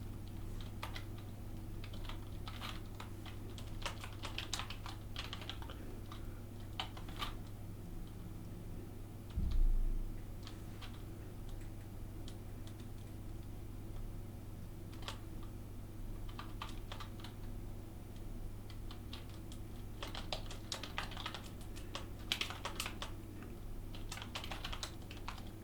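Steady typing on a computer keyboard while writing Python code, soft rapid key clicks running the whole time over a low constant hum, with no one talking.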